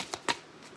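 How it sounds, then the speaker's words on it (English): Oracle cards from a goddess-themed deck being shuffled by hand: two quick, quiet papery riffles close together, then near silence. "Give them a little shuffle."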